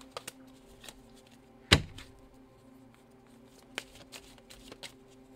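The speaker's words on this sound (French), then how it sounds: "la façon que je brasse les cartes" Tarot cards shuffled by hand in a quiet room: one sharp riffling burst, then soft scattered taps and slides of the cards, close and fairly faint.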